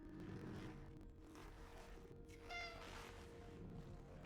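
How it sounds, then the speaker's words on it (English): A cat meows in the Cronos: The New Dawn video game, a faint cry rising briefly midway over a low droning background hum, with no talk. "if you hear a meow, go find the meow"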